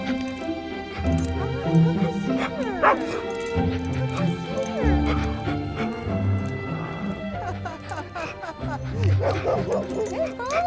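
A disabled dog yips, barks and whimpers in close, repeated bursts, its high-pitched cries coming again and again throughout.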